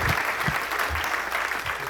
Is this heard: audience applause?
yes